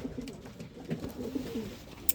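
Pigeons coo softly inside a pigeon loft, a low rolling murmur repeating over two seconds, close but quiet, with a faint click at the end.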